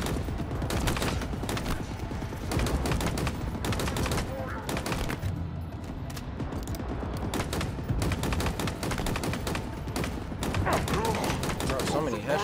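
Rapid gunfire and headshot hits in a Halo first-person shooter match, dense bursts of loud shots firing almost continuously with brief gaps, with faint game voices underneath.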